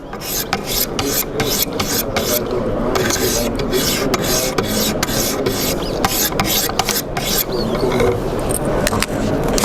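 Knife blade drawn across a Wicked Edge sharpening stone, a continuous loud rasping grind of repeated close strokes, metal scraping on abrasive in a steady back-and-forth rhythm without speech.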